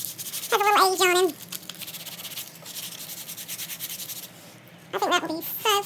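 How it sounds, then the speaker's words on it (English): Sandpaper rubs over a Dollar Tree scarecrow fall decoration, giving it a weathered look. The scratchy strokes run steadily under light background noise, with brief high-pitched voices at the start and near the end. "I want to sandpaper over him a little, just to give him a little weathered look."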